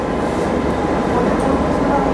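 A Kolkata metro train runs along the airport line toward Dum Dum Cantonment, a loud, steady rumble and whir of the carriage in motion, even throughout with no clear speech.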